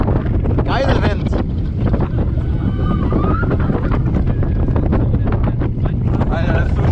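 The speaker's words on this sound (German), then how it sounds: "geiler Wind!" Strong wind roaring past the microphone on a Vekoma roller coaster ride, loud buffeting rush throughout, with riders' excited voices and shouts over it.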